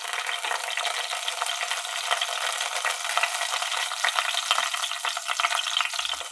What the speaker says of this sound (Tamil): ஒரு 4 பூண்டு பல்லு போட்டு எண்ணெயில் வதக்கி எடுத்துக்கலாம்